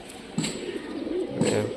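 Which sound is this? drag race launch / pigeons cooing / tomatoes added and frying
pigeons cooing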